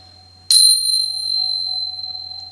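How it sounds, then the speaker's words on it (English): Crystal-cleansing chimes are struck once and ring on with a bright, sustained metallic tone that slowly fades in an otherwise quiet room. "my favourite way of cleansing is if I have a crystal, like a quick way of cleansing, is using my chimes"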